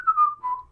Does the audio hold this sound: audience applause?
no